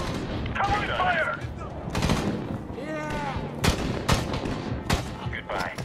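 Gunfire during a Medal of Honor (2010) battle: repeated sharp shots and bursts mixed with shouted voices and whistling effects, loud and busy throughout.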